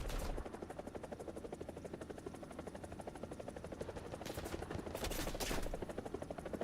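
Anti-aircraft gun in a video game on the Explorer Sweden custom map firing at a helicopter: steady rapid gunfire rattles over a constant helicopter rotor drone, with a few louder bursts near the end.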